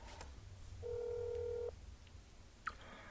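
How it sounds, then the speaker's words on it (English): In the video game That's Not My Neighbour, a steady electronic phone tone sounds for about a second after a few faint dial clicks, followed by a short sharp blip, all quiet over a low background hum. "Let us see if Gloria picks up the phone or if she is home"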